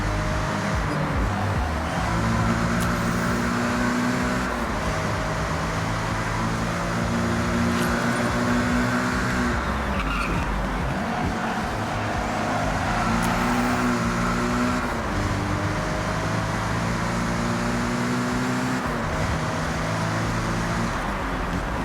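Car cruising in the Forza Horizon 6 racing game, a steady engine drone with layered low harmonic tones and shifting pitch, held at constant loudness throughout with no talk.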